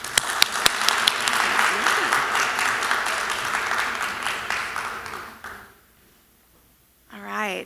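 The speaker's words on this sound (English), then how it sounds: "the big round of applause" A conference audience claps in a full round of applause for about five seconds, dense and close, then it fades to quiet before a voice begins speaking.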